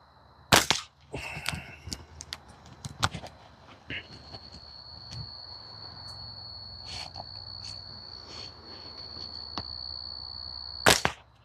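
Sharp snapping shots from a Prime Fork Seahorse slingshot hitting targets outdoors, scattered as single cracks and clacks, over a constant high insect buzz.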